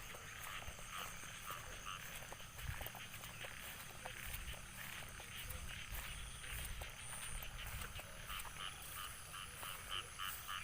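A dense chorus of frogs croaks continuously and fairly loudly, with overlapping rapid calls and faint clicks throughout, steady for the whole stretch without a break.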